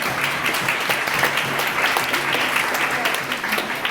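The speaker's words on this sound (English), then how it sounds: "Give yourself a round of applause for doing this." Sustained applause from an awards gala audience, steady dense clapping that fills the whole stretch without a break.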